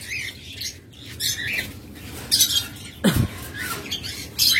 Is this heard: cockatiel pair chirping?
yes